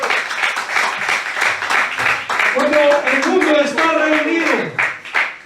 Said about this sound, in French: Den un aplauso al Señor.